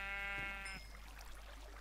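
A single sheep bleat in Minecraft, brief and nasal, fading quickly into low background hum.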